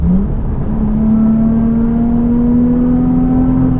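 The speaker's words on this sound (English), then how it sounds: "I can hear revs, I can hear skids" Modified cars leaving a car meet, with one engine holding a loud, steady drone that climbs slowly in pitch as it revs, heard close and continuous with no talk.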